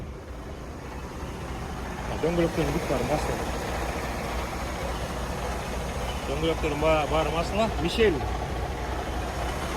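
A 2021 truck engine idles steadily through the clip, a low continuous rumble carrying under someone speaking nearby throughout.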